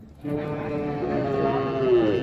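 A single cow moos at the Manapparai cattle market in Tamil Nadu, a long, low, drawn-out call that rises slightly toward the end, heard close and alone.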